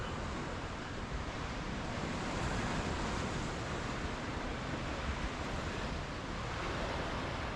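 Small waves and a light swell washing through an anchorage off the North Lombok coast, a steady, broad wash of water noise with faint wind, continuous and fairly quiet throughout with no talking.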